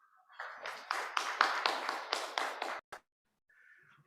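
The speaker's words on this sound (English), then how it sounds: "just a round of applause in anticipation" A short burst of clapping from a small audience at a Limpopo provincial meeting, several hands clapping together for a few seconds before stopping abruptly, with faint background sound after.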